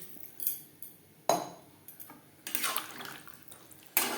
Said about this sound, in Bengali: বেশ ভালো করে নাড়াচাড়া করে নেওয়ার পর দিয়ে দেব জল